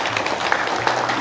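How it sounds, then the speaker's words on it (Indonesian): A church congregation claps together in steady, dense applause, a brief burst heard alone. "Berikan tepuk tangan buat Tuhan Yesus."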